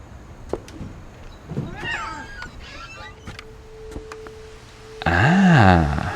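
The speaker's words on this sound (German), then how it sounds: "ich höre eine Katze." A cat meows outside in the video game What Remains of Edith Finch, a short, clear meow near the end amid quiet ambient game sounds and faint scattered noises.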